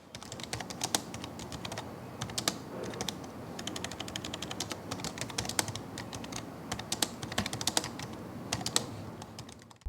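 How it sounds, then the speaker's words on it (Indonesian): Rapid, steady typing on a DA DAffice DOC002 keyboard, the keys clacking close and crisp in a continuous stream of taps with no voices. "Bisa kasih contoh suara feedback dari keyboard DA Davis DOC002."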